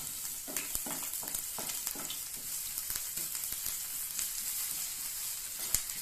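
Finely chopped ginger sautés in hot oil for a bread Manchurian, giving a steady bright sizzle with occasional light stirring scrapes and pops throughout.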